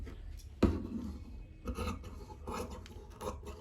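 Scissors cut through blouse fabric for a boat neck blouse, giving a few close, dry rasping snips with one sharp click, quiet and without voices.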